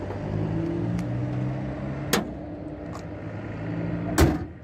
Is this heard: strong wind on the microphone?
no